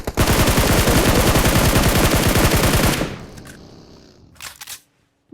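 Rapid automatic gunfire from a video game rattles loud and continuous for about three seconds, then cuts off, leaving a few faint clicks and short bursts afterward.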